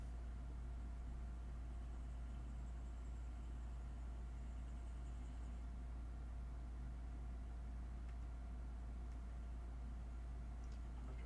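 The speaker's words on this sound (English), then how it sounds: "Apologies for the fan you hear. It's coming from my computer, and I can't silence it." A desktop computer's cooling fan whirs steadily throughout, a constant low hum and broadband hiss close to the microphone, with no talking.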